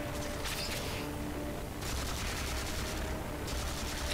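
Rapid automatic gunfire bursts from the video game Halo 4, two loud sustained volleys separated by short pauses, dense and close with no talking.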